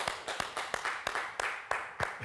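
Audience applause for a guest on a French-language TV show, a run of sharp hand claps at an even rhythm over a continuous crowd wash, moderately loud and steady throughout.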